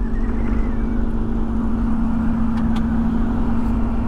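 A low-slung red car with a scorpion emblem rolls past on a road in San Fernando, Pampanga, its engine giving a steady loud hum with a strong low drone and no voices over it.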